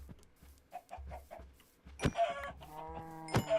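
Cartoonish Minecraft chickens cluck in quick, repeated bursts, with a couple of sharper squawks over a soft, tonal game background.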